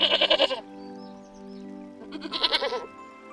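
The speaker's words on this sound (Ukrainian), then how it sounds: "це коза, і вона мекає" A goat bleats loudly twice, a wavering cry, then a pause, then another quavering bleat, close and clear with no talking.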